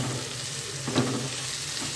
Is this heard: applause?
no